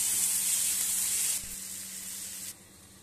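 Chopped onion and tomato sizzle in a hot pan for egg masala, a loud bright hiss that drops in steps as the heat settles, with a soft clunk partway through.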